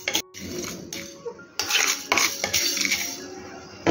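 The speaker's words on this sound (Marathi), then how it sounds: "आता आपण त्यात मेथी टाकू, मेथी भाजून घेऊ." Fenugreek seeds are dry roasted in a metal pan for a raw mango pickle spice mix, with close metallic clinks, rattles and scraping as a spoon stirs them in irregular bursts.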